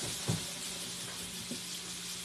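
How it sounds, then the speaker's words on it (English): Chicken livers frying quietly in a pan, a steady soft broadband sizzle with a couple of brief clatters near the start and middle, no voices. "they're just kind of quietly sitting there frying."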